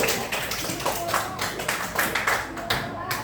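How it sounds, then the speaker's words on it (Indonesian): Schoolchildren in a classroom clap for a classmate, a near, uneven patter of hands in loose rhythmic bursts, with voices mixed in. "Tepuk tangan dulu untuk temannya."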